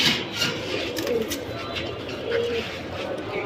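Pigeons coo steadily close by among a fancier's birds, including a full-tailed black-tailed bird, with soft overlapping calls and some background bustle throughout.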